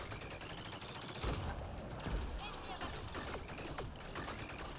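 Gunfire from a gun in the video game Mass Effect Andromeda, a rapid run of shots and impacts with a few heavier bursts, continuous over a busy game background.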